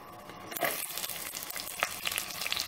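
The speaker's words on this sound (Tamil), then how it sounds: "போட்டுட்டு பாருங்க, இதுக்கு நல்ல சத்தம் வருது. வந்த உடனே வெங்காயத்தை முதல்ல போடுறோம்." Onions hit hot oil in a clay pot with a sudden burst of loud, close sizzling that continues as a steady crackling hiss, with occasional stirring scrapes.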